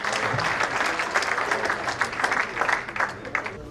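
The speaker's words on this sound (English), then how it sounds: "A warm round of applause for Mr. Zenon Souza." A warm round of audience applause for a guest speaker at an anniversary gathering, steady clapping with sharper individual claps standing out as it thins toward the end.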